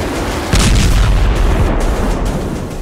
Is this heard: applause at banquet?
no